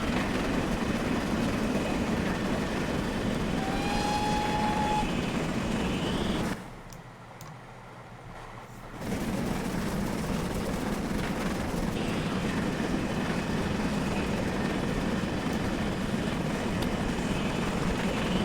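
A GWR 7800 Manor steam locomotive running at speed in a railway game gives a continuous loud rushing, roaring drone with a rattle of the carriages behind. A sharp muffled dip about a third of the way through sounds like a tunnel or cutting.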